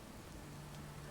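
Steady rain falling in the Fallout 4 video game, a continuous even hiss of drops on surfaces with no speech over it.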